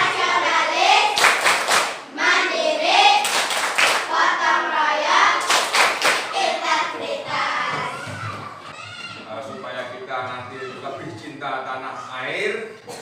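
A group of young people perform a rhythmic clapping chant, sharp synchronized claps in patterned bursts mixed with chanted voices, close and loud, with the clapping thinning out toward the end as singing voices continue.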